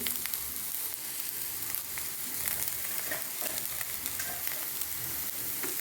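Chopped drumstick (moringa) leaves fry in a hot pan with a constant bright, crackling sizzle, close and steady throughout, and no voices.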